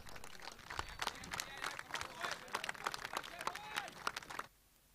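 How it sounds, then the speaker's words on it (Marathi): A crowd at a cricket prize ceremony applauds the runner-up team with scattered, uneven clapping that is fairly faint and distant, then cuts off abruptly near the end. "जोरदार टाळ्या होऊ द्या यांच्याकरता"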